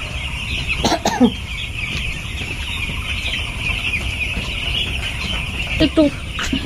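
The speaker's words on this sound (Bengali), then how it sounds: "নোংরা জলটা মুরগি খাচ্ছে" Chickens drinking dirty water from a dish let out short bursts of clucking, near and brief, over a steady outdoor hum.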